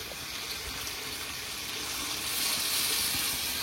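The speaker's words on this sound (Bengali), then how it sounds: "আমি অল্প জল দিয়ে দেবো" Water is poured into a pot of Bengali chicken maharani curry near the end of cooking, a steady soft gushing splash that swells slightly toward the end, with no talking.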